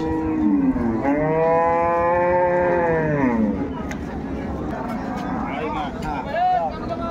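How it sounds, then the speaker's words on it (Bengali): A dairy cow at a cattle market in Dhaka lets out one loud, sustained moo lasting about three seconds. People talk nearby throughout. "চমৎকার একটি গাভী"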